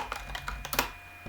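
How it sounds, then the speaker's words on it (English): A computer keyboard clicks in a short, quick run of about half a dozen keystrokes, close and fairly soft, with no talking. "I'm just typing it here."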